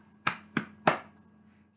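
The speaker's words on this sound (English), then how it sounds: "clap your hands 3 times" Three sharp hand claps in a game of Simon says, evenly spaced and close, each with a short decaying ring in a quiet room, with a fourth clap starting at the end.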